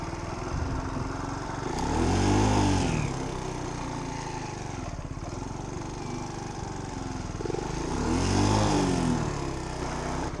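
A motorcycle engine idles and slowly swells as the bike makes a tight, careful U-turn in a narrow spot, with two gentle rises in engine note, close by and steady.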